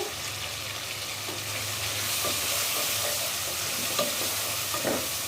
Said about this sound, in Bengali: আমি আলুটা কষিয়ে নিছি।